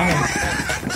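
Chickens clucking steadily while they feed on leaves, a close, continuous chorus of hens with no talking.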